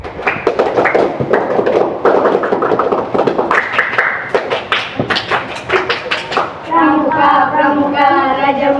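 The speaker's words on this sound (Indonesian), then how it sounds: "3 kali tepuk pramuka." Scout troop of elementary schoolchildren doing the rhythmic three-round Pramuka clap, sharp hand claps and taps in a patterned sequence, close and loud, mixed with group chanting and children's voices.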